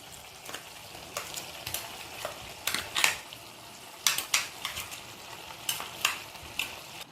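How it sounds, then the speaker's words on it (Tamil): Ground masala paste going into a pan of simmering broccoli kurma, stirred with a spoon: soft sizzling under repeated scraping and clinking strokes against the pot, fairly close and steady, with no voices. "ஸோ இப்போ நம்ம அரைச்சி வச்சுருக்கிறது இதில் போட்டுடலாம்."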